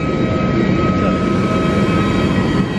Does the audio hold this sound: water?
no